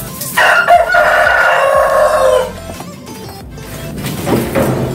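Roosters, including Decalb Brown and Rhode Island chickens, crow loudly and close by, one long cock-a-doodle-doo followed by more crowing and clucking from other fowl nearby.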